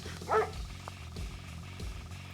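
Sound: attack dog barking in Red Alert 2 video game

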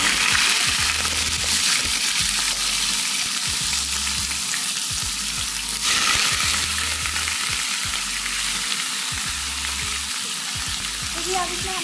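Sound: chicken sizzling as it fries in a pan

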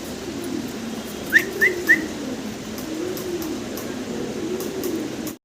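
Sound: pigeons cooing

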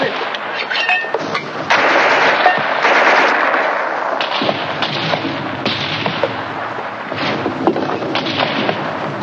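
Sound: mortar fire in a 1950s war film

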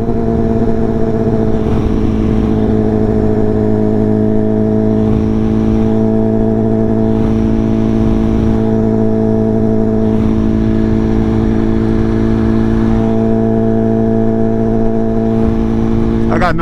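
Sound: motorcycle engines on highway

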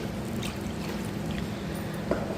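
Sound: water poured through a sieve into flour

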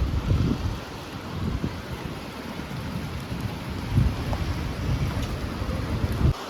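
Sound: heavy rain falling in Bhavnagar

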